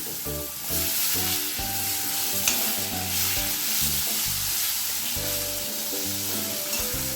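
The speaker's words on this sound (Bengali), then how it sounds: "এই জিরে ফোড়নটা দিয়ে দিলাম পটলটাও দিয়ে দিলাম" Pointed gourd pieces frying in a wok with a cumin tempering in hot oil, a steady sizzle with rhythmic stirring and scraping strokes throughout, close and alone with no talk.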